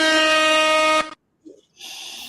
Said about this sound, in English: let me throw up these air horns